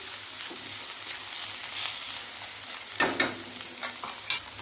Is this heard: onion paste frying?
yes